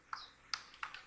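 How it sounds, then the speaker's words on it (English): Several quick, close, light keystrokes on a computer keyboard while details are typed into a WordPress theme generator, with no talking. "So I'm gonna type in my details."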